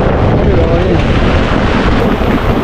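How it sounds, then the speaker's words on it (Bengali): Strong stormy wind roars continuously with heavy downpour at a ferry ghat on a rough river in the Sundarbans, a dense, loud, unbroken wash of noise with no pauses. "প্রচণ্ড পরিমাণে ঝোড়ো হাওয়া দিচ্ছে"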